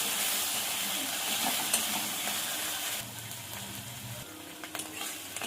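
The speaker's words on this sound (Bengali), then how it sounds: "পেঁয়াজ বাটাটা একটু পেঁয়াজের সঙ্গে ভালো করে কষিয়ে নেব" Onion paste being fried with browned onions in a pan for a jackfruit curry: a steady, fairly soft hiss that quiets midway, with a few stirring knocks toward the end.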